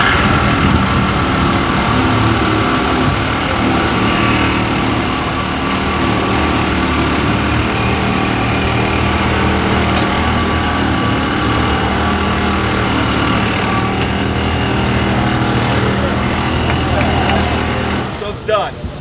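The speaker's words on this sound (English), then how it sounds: "try a piece of rebar" A saw cuts through a piece of rebar at the World of Concrete trade show, a loud, steady grinding drone running nearly unbroken for the whole stretch and dropping away only at the very end.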